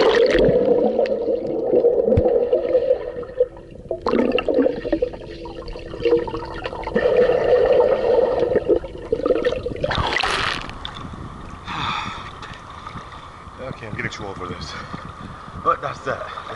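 Sony action cam plunged into an empty swimming pool on a Friday afternoon: a gurgling, bubbling rush of water as the camera submerges, with muffled underwater churning and splashes following, and a voice speaking over the start.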